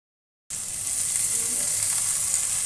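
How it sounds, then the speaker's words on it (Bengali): Fish eggs fry and are stirred in a hot pan, a loud steady sizzle that starts abruptly after a moment of silence and continues unbroken with faint scraping, no voices. "এবার পুরো ডিমটাকে আবার দিয়ে দিব, দিয়ে 1 মিনিট নেড়ে চেড়ে"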